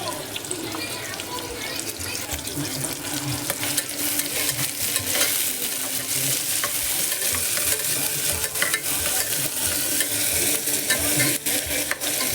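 Two medium onions fry in a pan for a shortcut biryani, giving a continuous dense sizzle broken by repeated scraping stirs, close and steady throughout.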